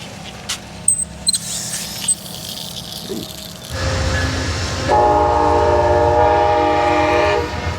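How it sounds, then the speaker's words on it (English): A train rolls past a cliffside campsite along the California coast, its horn blaring in a long sustained chord as rumbling wheels and rattling cars build and hold loud and near. "there's a train that runs down pretty much the entire coast, so if you're parked anywhere near it, they go by all day"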